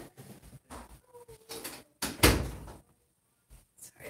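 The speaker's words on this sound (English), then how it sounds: "I just closed my door there." A door is pulled shut indoors with one loud thud, preceded by scattered shuffling and small handling noises, then a short quiet pause and faint movement afterward.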